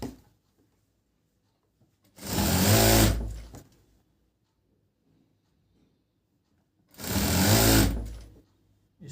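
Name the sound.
sewing machine stitching inner seam of trousers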